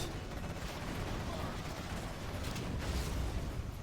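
Scud launchers attack in Command & Conquer Generals Zero Hour, a dense, continuous roar of rumbling blasts and crackling explosions that stays loud and unbroken throughout.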